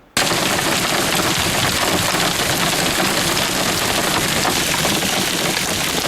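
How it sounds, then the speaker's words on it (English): Hailstorm in Texoma, Texas, near the Oklahoma border, with quarter-sized hailstones: a loud, dense, unbroken roar of ice pelting surfaces that starts abruptly and holds steady throughout, no voices. "strong storms produced large hail, ranging in size from an inch in size to the size of baseballs"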